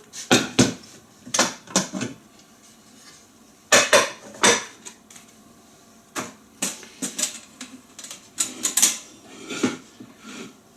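A metal insert clanks and rattles as it is lifted in and out of an 8-quart Presto pressure cooker, several sharp close metallic bursts in irregular clusters with quiet gaps between.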